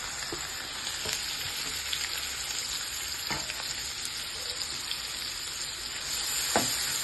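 Onions sizzle in hot oil with whole cloves and cardamom for biryani, a steady close frying hiss with occasional stirring clicks and no talking.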